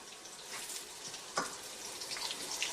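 Onions browning in a pan for a homemade Italian tomato sauce, a soft, close sizzle with occasional louder spits and stirring, faint and steady with no talk.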